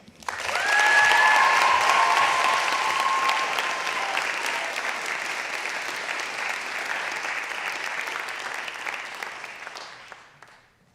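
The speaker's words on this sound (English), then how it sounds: "Let's give these writers one more round of applause." Sustained audience applause for writers at a senior class spring reading, a dense wash of clapping that swells quickly, holds for about ten seconds and fades out, with a few whoops rising above it near the start.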